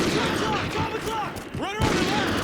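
Remote sniper rifle shots in Call of Duty Ghosts, several sharp booming reports with whistling, sweeping tails, loud and close over game ambience.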